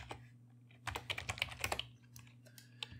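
Keys clatter on a computer keyboard in a quick, uneven burst of typing, close and clear over a steady low electrical hum, while setting up a vehicle seat object in Roblox Studio.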